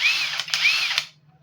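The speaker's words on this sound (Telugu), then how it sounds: "మనం డ్రిల్లింగ్ కూడా వేసుకోవచ్చు." An Ironwood 21 V cordless impact drill runs in a close, loud, high whine with a couple of brief pulses, then cuts off near the end.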